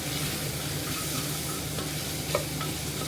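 Potatoes sprinkled with salt brown in a pan, a constant close sizzle with faint stirring scrapes and one small clink.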